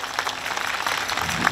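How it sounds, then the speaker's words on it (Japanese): A crowd at a May 3 Constitution Day rally applauds, giving a short burst of dense, even clapping that fills the hall at a steady level. "まず皆さんに拍手を送りたいと思います"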